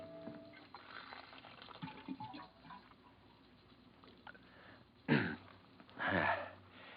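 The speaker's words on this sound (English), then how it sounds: "go over to the water cooler for a drink" Water from an office water cooler pours and gurgles in an old radio drama, two short splashing bursts near the end after quieter background rustling, close and clear.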